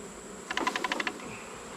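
Bees buzzing around an opened hive box in the evening, a short burst of several close, pulsing wingbeat buzzes lasting under a second against quiet background hum.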